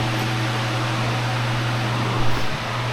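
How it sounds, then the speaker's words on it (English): A new homespun vacuum cleaner runs with a steady, close motor whir and broadband airflow hiss holding level throughout, with a brief bump near the end. "So we're testing out this new homespun vacuum cleaner."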